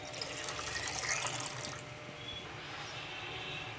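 A tumbler of water poured into a pressure cooker with cassava pieces, a soft splashing pour for under two seconds that then settles into a faint trickle and quiet room tone.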